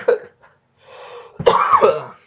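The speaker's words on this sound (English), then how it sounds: "I'm coughing" A single cough bursts out near the mic during a podcast conversation, a short throaty hack followed by a rougher, longer cough-clearing after a brief pause.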